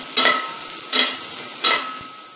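Potatoes sauté with turmeric in a pan, three distinct stirring scrapes over a continuous close sizzle, no voices.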